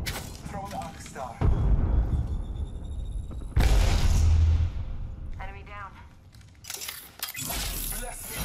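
In Apex Legends gameplay, a frag grenade goes off in two loud booming blasts a couple of seconds apart. Players talk over the game sounds between and around the explosions.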